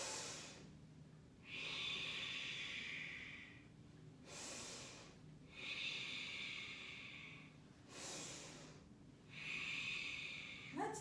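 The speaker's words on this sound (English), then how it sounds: "Take a deep inhale." Slow, deep breaths during a standing yoga warm-up: three long, steady airy inhales spread evenly across the stretch, close and clear with no talking.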